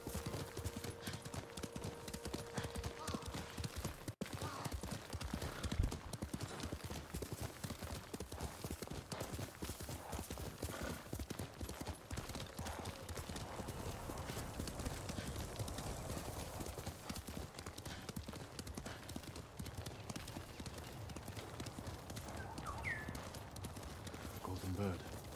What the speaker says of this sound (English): I am just gonna ride my horse to there.